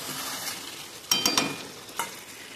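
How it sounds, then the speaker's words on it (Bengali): Mutton frying in oil while being stirred, a soft sizzle broken by a quick cluster of spoon scrapes and clinks and one later knock, close by, no voices. "ততক্ষণ ওকে নাড়তেই থাকবো, নেড়েই যাবো ওকে"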